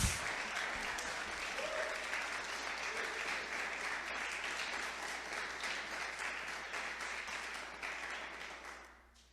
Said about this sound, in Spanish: ¿Por qué no le damos un fuerte aplauso a Dios?